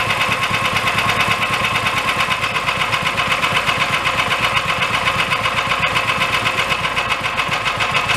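A dune buggy engine idles slowly with its decompression valve open, giving a steady, loud, rhythmic putting and knocking that runs evenly without a break and with no voices over it.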